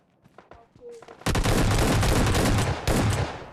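Sustained burst of automatic gunfire in PUBG Mobile Lite, loud and dense after a quieter opening, with a brief pause before another volley.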